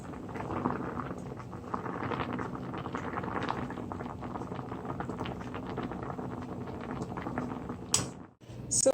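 Corn flour dumplings boiling in a pot of water, a steady bubbling, pattering simmer close by that runs throughout, then a couple of sharp clattering knocks near the end.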